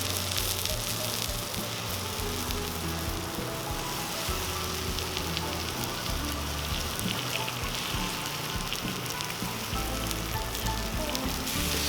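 St. Louis cut spare ribs sear on a Cuisinart 360° griddle outdoors, giving a steady, dense sizzle that runs unbroken and fairly close throughout.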